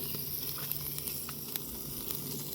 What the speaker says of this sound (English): with this good sizzle and flame